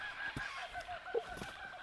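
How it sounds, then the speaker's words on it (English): A flock of cockatoos calls noisily outdoors, several harsh honking squawks spaced irregularly over a quiet background, moderately close. "Amazing flock of cockatoos. How noisy?"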